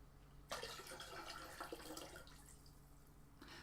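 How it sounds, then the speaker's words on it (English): Pectolase solution is poured from a glass into homemade wine, giving a short faint splash and trickle of liquid that fades after a couple of seconds. "and pour it straight to the wine."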